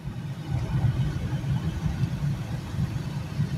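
A car drives along a rough, rundown town road in Marion, Indiana, its low engine rumble steady and close throughout, with an uneven, jostling quality and no talking.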